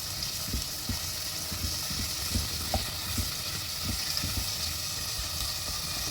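Chopped tomato and green chilies sauté in a pan for a potato bhujia, with a steady, even hiss of frying and soft, irregular low knocks of stirring underneath.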